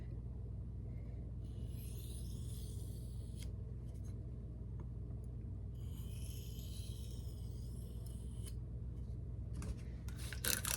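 Steady scraping strokes of an SPK Shark knife in Elmax steel drawn across a scarlet, brick-colored sharpening stone, coming in two long sustained passes over a constant low rumble, with a few sharp clicks near the end.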